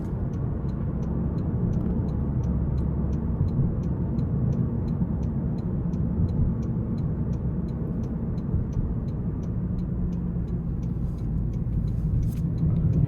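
A 2025 Toyota Corolla SE engine in Sport mode gives a steady, loud low drone and road rumble from inside the cabin, holding an even level with no clear rev swell and no voices.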